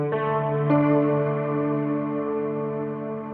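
Mellotron M4000D piano chords ring out through an Eventide Rotary effect, a sustained, slowly swirling tone with a second chord entering and decaying gradually.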